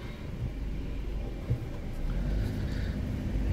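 A car drives on the way to a weightlifting training session, a steady low engine and road rumble heard from inside the cabin with a slight thump midway and no talk.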